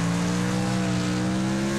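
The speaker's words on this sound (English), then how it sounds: "We're driving our Gravedigger car." The Gravedigger monster truck engine in the Monster Jam video game, a loud, steady droning roar that runs without a break throughout, with no talk.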